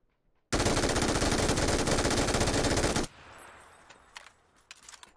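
Automatic gunfire in PUBG rattles out in one loud, rapid sustained burst of about two and a half seconds, then stops, leaving a low hum and a few faint clicks.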